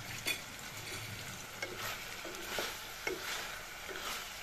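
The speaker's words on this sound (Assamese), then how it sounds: "মাংসখিনিও মই এনেদৰে ভাজিলোঁ।" Chicken pieces for a kohlrabi chicken curry fry in a pan, producing a soft continuous sizzle with occasional stirring knocks and scrapes, without any voices.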